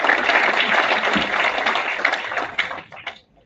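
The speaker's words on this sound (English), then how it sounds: "A huge big round of applause" Audience applause at a corporate felicitation event, a broad dense wash of clapping that carries steadily before thinning and fading out near the end.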